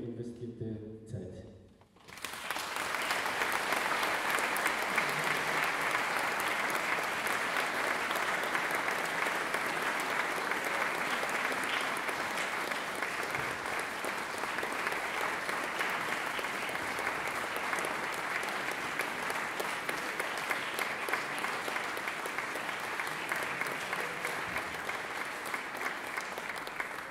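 Sustained audience applause at a church concert, a dense steady clapping that swells after a brief quiet start and continues evenly for nearly half a minute, with no voices standing out.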